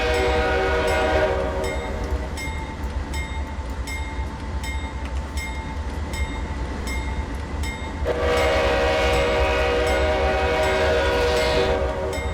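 A diesel locomotive horn in Train Simulator 2019 sounds in long blasts at a whistle post, stopping for a stretch and then returning, over a steady rumbling engine and rail noise from a grain train on Marias Pass.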